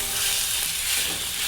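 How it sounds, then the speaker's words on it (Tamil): Chicken being stirred with masala in a frying pan for a Kerala kandhari chicken gravy, giving a steady, close hiss of sizzling oil with soft scraping and stirring throughout, no voices. "இந்த டைமில் நம்ம கழுகி வச்சுருக்க சிக்கனை இது கூட ஆட் பண்ணிட்டு இதையும் நல்லா மிக்ஸ் பண்ணி விடுவோம்."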